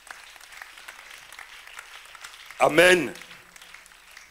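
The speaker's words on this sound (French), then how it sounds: "Nous acclamons très fort le Seigneur." A church congregation claps and cheers steadily through a sermon, and a single voice calls out loudly near the end over the applause.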